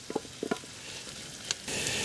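Finely cut portobello mushrooms hit a hot pan, with a couple of soft knocks and a spoon tap before a sudden rush of loud sizzling near the end.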